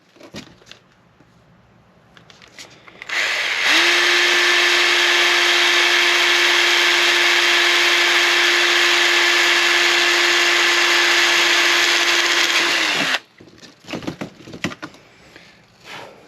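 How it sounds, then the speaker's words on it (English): A power drill whirs loudly and steadily for about nine seconds, a sustained high motor whine, with quieter clicks and handling noises before and after. "Now that we got our holes drilled."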